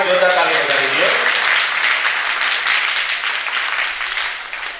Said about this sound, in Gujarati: એકવાર બેન માટે જોરદાર તાળી બજાવી દો